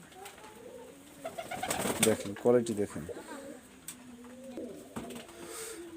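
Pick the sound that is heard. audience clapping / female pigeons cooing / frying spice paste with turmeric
female pigeons cooing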